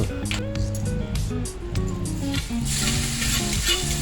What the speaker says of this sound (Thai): ตั้งไฟตั้งเตาน้ำมันพืชลง